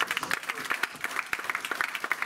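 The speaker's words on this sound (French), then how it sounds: "Donnons une acclamation." Church congregation clapping after a pastor's call for an acclamation, a dense run of sharp claps, fairly faint and steady throughout, with a few louder individual hand strikes standing out near the front.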